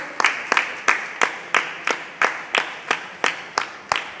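An audience at an RCM marketing plan meeting in Karimnagar claps in unison to welcome a speaker, with a steady, even beat of about a dozen sharp, loud claps over four seconds and no talking.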